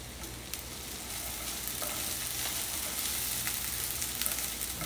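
Burgers and Vidalia onions sizzle in a hot frying pan, a dense, even crackling hiss heard close up with faint pops and no voices.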